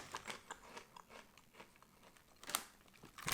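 Someone crunches a savoury puffed corn or rice snack from a Japanese snack box. Several close, sharp bites and chews come at an uneven pace, fairly quiet, with no talking.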